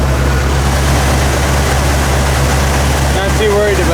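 A 1982 Ford F150 with a newly replaced distributor idles steadily nearby, giving a constant low rumble throughout.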